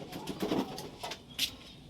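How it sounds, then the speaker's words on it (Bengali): Domestic pigeons coo softly while bathing outdoors, a low throaty burbling over faint splashes and rustling, with a brighter chirp-like note near the end, heard close up. "এই দেখুন পায়রা কিন্তু সব চান করছে"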